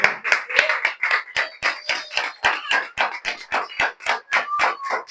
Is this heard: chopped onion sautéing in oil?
no